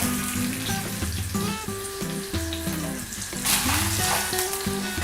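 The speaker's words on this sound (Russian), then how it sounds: "наливаем в сковородку оливкового масла, разогреваем и выкладываем туда куски мяса" Beef shank pieces fry in hot olive oil in a pan, a close, steady sizzle and crackle with occasional louder spits and no talking.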